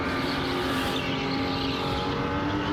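A go-kart driving close against the wall at Supercharged Edison's indoor race track, its engine a steady droning hum that holds throughout with a faint tonal whine.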